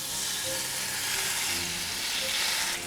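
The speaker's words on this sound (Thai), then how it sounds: "เอาเนื้อที่คลุกเกลือกับพริกไทยแล้วลงไปเลยค่ะ" Salt-and-pepper seasoned beef, about one inch thick, sizzling loudly in a hot pan over medium heat, a constant bright hiss and crackle with no talking.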